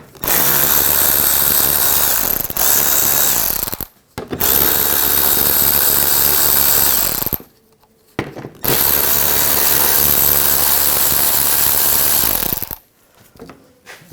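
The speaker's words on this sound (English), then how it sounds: "You're going to use a 8mm socket. Take these off." Power tool with an 8mm socket spinning out undertray panel fasteners on a 2000-2006 BMW X5, three loud, sustained whirring runs separated by brief silences, close up with no talk.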